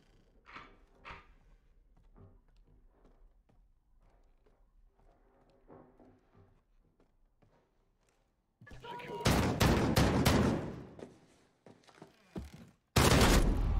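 Gunfire in a Call of Duty campaign mission: quiet footsteps and movement, then loud, dense bursts of rapid shots close up, a pause, and a final heavy burst.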